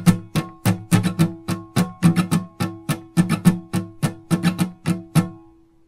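Acoustic guitar strummed in a percussive sixteenth-note rhythm with muted, choppy strokes, each sharp attack cutting off quickly in a steady, driving pattern, played alone.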